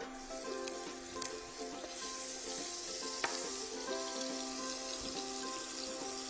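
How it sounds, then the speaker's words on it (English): Butter sizzles with olive oil in a pan, a steady, quiet, continuous crackle, with a few faint clinks and a brief thump, and no voices. "I'm just going to add 1 tablespoon of butter as well into the pan with the olive"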